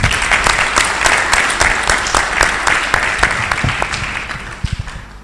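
Loud, close applause from an audience for the friends of the city of Douala, many hands clapping steadily and then thinning into scattered claps with a few sharp knocks at the end.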